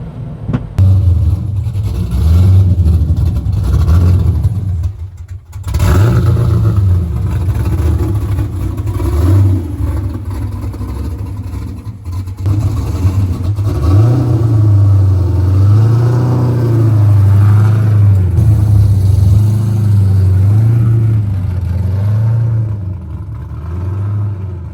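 A widebody 2001 C5 Corvette coupe with a manual transmission and an LS7 engine swap revs hard and loud nearby, its deep engine note rising and falling in repeated surges, with a brief drop near the start.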